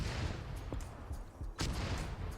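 Gunfire in Arma 3 as troops fire on an artillery position: scattered distant shots and bursts popping over rumbling battlefield noise, with one sharper report standing out.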